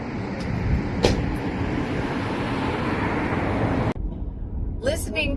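A car driving on a road through southern into central Oregon makes a loud, steady rumble of road and engine noise from inside. The noise drops off abruptly, and a voice is heard near the end.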